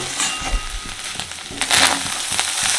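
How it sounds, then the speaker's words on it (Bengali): Boiled fish roe frying in oil in a pan as it is stirred, with steady sizzling broken by irregular sharp pops and crackles, some louder bursts standing out partway through. "দেখছেন ডিমগুলো ফটফট করে ফাটছে মানে একটা আওয়াজ হচ্ছে ফটফট"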